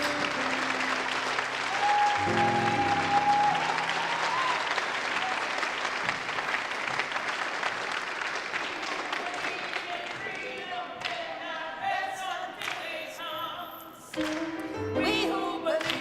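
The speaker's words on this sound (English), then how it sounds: "Stand up and let's give them a round of applause." An audience at a conference opening night stands and gives a long round of applause, thick and sustained at first, then thinning toward scattered claps with some voices near the end.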